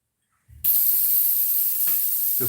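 An airbrush being flushed clean between colors while painting a musky crankbait lure: a sudden, loud, steady hiss of spraying air that runs on unbroken, with a few low puffs and bumps underneath.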